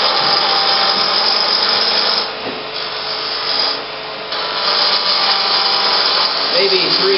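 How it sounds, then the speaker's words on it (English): Wood lathe with a parting tool cutting a tenon on a turned bud vase, a loud continuous scraping hiss that briefly dips a couple of times mid-cut before resuming steadily. "So I just use a parting tool and cut a tenon."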